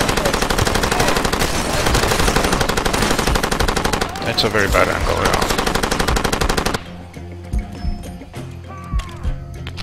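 Rapid, dense bursts of machine-gun fire from the video game Far Cry 2, loud and sustained for several seconds before cutting off into quieter sounds, with players talking over the shooting.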